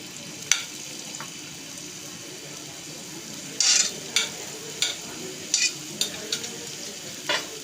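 Chopped garlic and spring onions fry in a teaspoon of oil for a Chinese-style vermicelli snack, a soft steady sizzle broken by several sharp clacks and scrapes as the pan is stirred.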